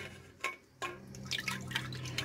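Paintbrushes swished and tapped in a can of water, giving a few wet drips and splashy clinks, then a busier run of sloshing near the end.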